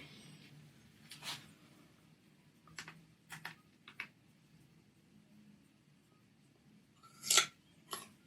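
Several sharp, crisp crunches sound at irregular intervals against a quiet background, like a knife cutting through a carrot on a board.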